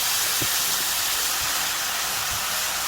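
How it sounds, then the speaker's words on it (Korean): Marinated pork neck laid on a preheated pan, giving a steady, loud sizzling hiss throughout with a few faint low knocks and no talking. "열오름 팬에 고기 올려줍니다"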